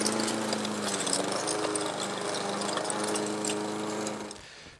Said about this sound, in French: ça passe à la tondeuse sans problème, ça va tout fragmenter